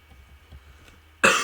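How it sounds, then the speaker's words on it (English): A single sharp cough bursts out at the end, close and loud after near-quiet with faint background clicks. "I'm coughing, dude, gosh."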